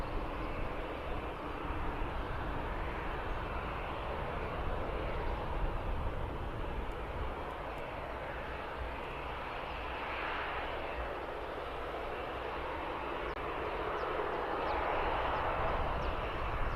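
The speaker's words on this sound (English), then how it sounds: "This is the Virgin Atlantic Dreamliner." Virgin Atlantic Boeing Dreamliner jet at Birmingham Airport, heard as a steady, loud, broadband engine roar with no talking.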